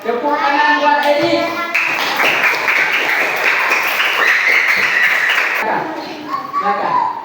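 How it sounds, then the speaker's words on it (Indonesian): Children in a classroom clap and applaud, a loud, dense stretch of hand-clapping lasting several seconds, with a teacher's voice speaking before and after. "Tepuk tangan buat dia."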